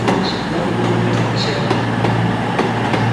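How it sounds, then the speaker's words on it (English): A CrossCountry Class 221 unit, 221139, running from Dundee to Newquay, rolls into a Devon station with a steady low rumble and faint clanks from the wheels, moderately close. "in comes a cross-country service. This, I believe, is heading to Newquay"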